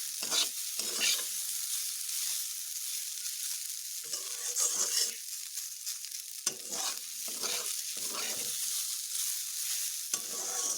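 Figs and potato fry in a little oil over medium heat, a bright continuous sizzle broken by repeated stirring scrapes and bursts, close and steady with brief quieter gaps.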